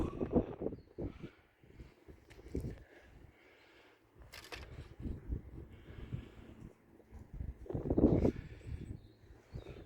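Gusty wind buffets the microphone on an open fishing pier at Eastney Outfall, with uneven low rumbles and soft whooshes rising and falling through the whole stretch.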